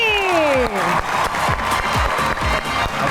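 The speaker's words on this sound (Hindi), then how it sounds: "आप सबकी तालियों में तशरीफ लाते हैं" A studio audience at a talk show applauds continuously for arriving comedy guests, with dense, even clapping throughout and a brief gliding tone at the start.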